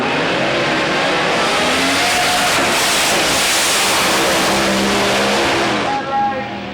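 Loud roaring engines as drag racing cars launch at Santa Pod, spinning their tyres into tyre shake, a sustained high-powered blare that fades near the end.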